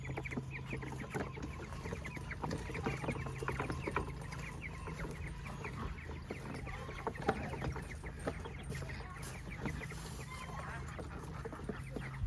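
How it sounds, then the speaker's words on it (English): Cornish cross chickens clucking and peeping continuously at close range in a small chicken carrier, a busy flock chatter over a low steady hum. "Here's 10 Cornish cross in our little homemade chicken carrier"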